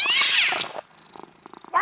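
A cartoonish cat meow sound effect used as a radio morning show's Cash Kitty jingle, loud and close, followed by quieter purring or sputtering noises and a final short meow.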